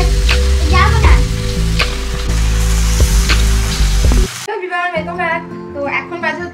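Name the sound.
egg curry cooking in a pan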